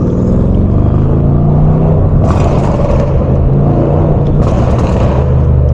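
A 600-plus horsepower BMW M550 cruises downtown, its engine a loud, steady low rumble with whirring drivetrain and road noise throughout, rising slightly in spots.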